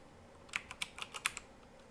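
Short burst of about eight crisp keystrokes on a computer keyboard, close and fairly quiet, typed in an irregular quick rhythm with no talking.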